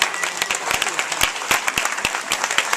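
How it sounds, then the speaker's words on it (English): Steady crowd applause at a live event, with sharp individual claps standing out from the dense mass of clapping throughout. "Let's give them a round of applause."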